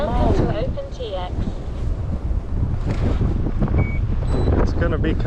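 Strong gusty wind buffets the microphone outdoors at a drone flying site, a loud low roaring rumble throughout, with voices talking faintly underneath.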